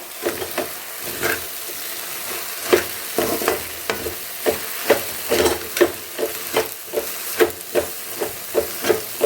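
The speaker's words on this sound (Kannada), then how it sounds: "ಕ್ಲೀನಾಗಿ ಲೋಳೆ ಹೋಗೋವರೆಗೂ ಫ್ರೈ ಮಾಡಬೇಕಾಗತ್ತೆ" Okra (lady finger) frying in a pan for a Havyaka Brahmin-style dish, a steady close sizzle broken by regular scraping stirs about once a second, with no one talking.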